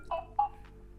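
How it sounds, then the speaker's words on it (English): A Nothing Phone 1 plays a short ringtone of two soft, clean electronic tones in quick succession, faint and alone. "whenever the phone is ringing, if this is the chosen ringtone, this is what it does"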